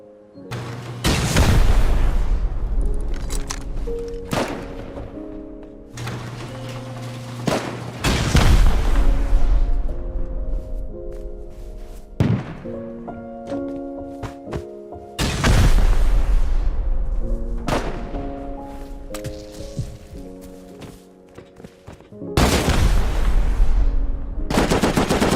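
Rocket explosions and gunfire in the survival game Rust: several loud, booming blasts land every few seconds, and rapid gunfire rattles between them. Each blast is followed by a long ringing tail.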